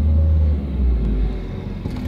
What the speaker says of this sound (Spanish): Voy a dar un acelerón.